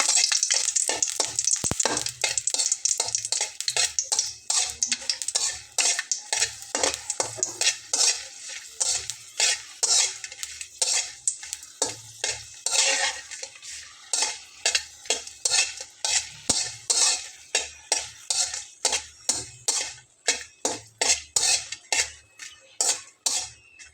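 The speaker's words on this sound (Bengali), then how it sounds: "প্রথমে আমি এখানে লাল মরিচটা দিয়ে নিলাম যেটা শুকনো মরিচ আর কি শুকনো মরিচটাকে ভেজে নেবো" Dried red chillies fry in hot oil for a home-style tomato mash, with a soft sizzle under repeated close scraping and stirring clinks of a spatula against the pan, rhythmic and fairly quiet.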